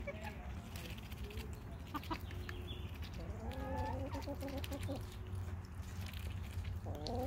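A small chicken clucks in short, soft bursts at close range over a steady low background hum, with a few higher chirps breaking through.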